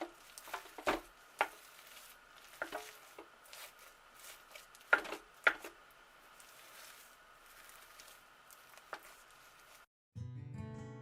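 Homemade tobacco and bay leaf shaving soap being stirred gives quiet, irregular wet scrapes and soft knocks of a utensil against the container, close and faint, ending in a brief burst of different noise.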